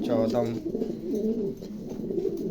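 Pigeons kept in pairs for sale coo in low, rolling, repeated phrases, close and fairly loud, one call flowing into the next.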